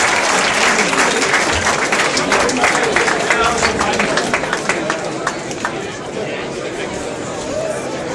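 Sustained applause and clapping from an arena crowd at a semi-professional featherweight MMA event, honoring two fighters after their bout; dense, steady clapping with crowd chatter, fading slightly toward the end.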